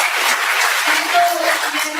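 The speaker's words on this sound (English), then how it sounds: "Big round of applause." A seminar audience breaks into a short burst of broad, even applause, loud and close, with a voice heard over it.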